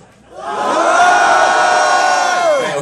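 A packed crowd at a live metal concert yells one long, loud, sustained scream on cue, rising quickly and holding steady for more than two seconds before cutting off.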